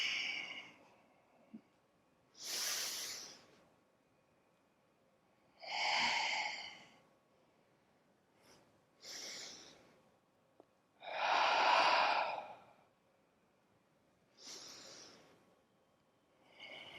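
Slow, audible breaths during a gentle yoga flow, several long airy exhales spaced a few seconds apart with quiet pauses between, close and fairly soft, with no talking.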